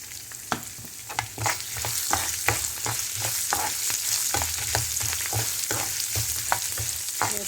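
Ginger, garlic and asafoetida sauté in a hot pan, a steady sizzle broken by repeated sharp scrapes and knocks of a spatula stirring in an uneven rhythm, close and fairly loud, with no talking.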